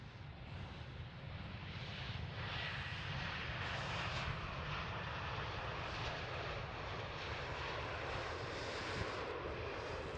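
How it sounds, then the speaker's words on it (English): An EasyJet Airbus A320neo lands at Amsterdam Schiphol, its engines making a steady, broad, distant roar that holds evenly throughout with no voices. "So two EasyJet A320 Neos, both with the Neo livery, landing nearly simultaneously on the two parallel runways."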